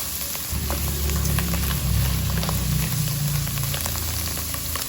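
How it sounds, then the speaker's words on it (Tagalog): Mushrooms sautéing in a pan for a chicken and penne Alfredo, giving a steady close sizzle and crackle of frying that holds throughout with no talking. "Saute for a few minutes"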